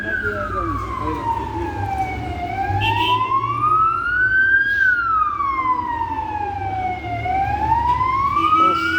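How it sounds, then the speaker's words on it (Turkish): An ambulance siren wails past a street-side shop, its rising and falling tone sweeping loudly over steady traffic rumble, peaking as it goes by. "ambulans geçiyor."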